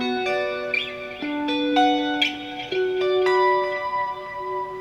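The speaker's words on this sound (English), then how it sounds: "So basically, if you want the second inversion of the minor, it sounds like this" A clean, shimmering electric guitar plays a second-inversion spread minor triad, notes picked one after another and ringing together with echo and chorus.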